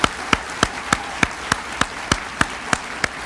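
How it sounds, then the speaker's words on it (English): A single person claps slowly and evenly, about ten sharp claps at a steady pace, for Rachel Ellis and the Attorney General's staff at an overdose prevention summit. "help us give a big round of applause for Rachel Ellis and all the staff at the Attorney General's office"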